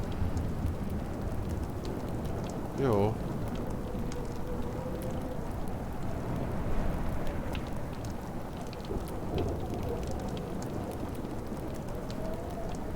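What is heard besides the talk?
rain and thunderstorm in video game Life is Strange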